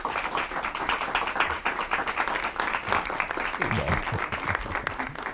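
A live audience gives a warm round of applause at a Fellowship Farm community event, loud, dense clapping from many hands rattling on continuously, with a faint voice briefly surfacing near the end.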